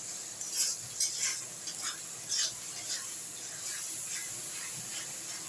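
Ginger and garlic fry in a pan with a steady hissing sizzle, punctuated by a few soft scrapes and spatters of stirring, close but fairly quiet, with no speech.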